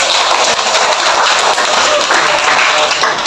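A classroom of students applauding a classmate during an anti-bullying snakes-and-ladders guidance session, dense loud clapping that stays steady throughout, with faint voices mixed in.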